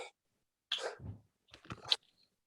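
Two short, sharp sneezes burst out close by with a pause between them, in an otherwise quiet room.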